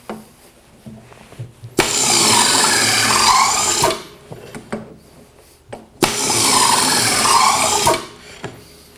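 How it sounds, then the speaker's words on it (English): Kreg pneumatic pocket hole drill boring into wood stock: two loud bursts of drilling, each lasting about two seconds, separated by quieter handling and clamp noises. "As I pull the handle down, air pressure causes it to hold the stock down, and the drill comes up and makes the pocket hole."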